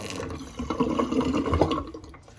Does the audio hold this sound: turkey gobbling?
no